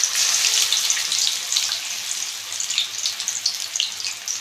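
Chicken legs fry in hot oil, a bright, steady sizzle with crackling pops throughout, close and alone without talk.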